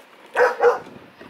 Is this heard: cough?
no